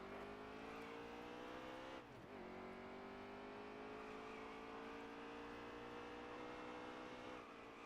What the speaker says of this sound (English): Car outside.